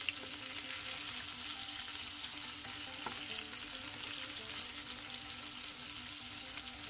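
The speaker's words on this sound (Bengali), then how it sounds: "আলুগুলো তেলে ভালো করে নাড়াচাড়া করে তেলটার মধ্যে আলুগুলোকে মিশিয়ে দিতে হবে" Boiled potato pieces frying in oil with fenugreek leaves, a steady quiet hiss of sizzling fat under a faint low hum, with an occasional soft knock of a stirring spoon.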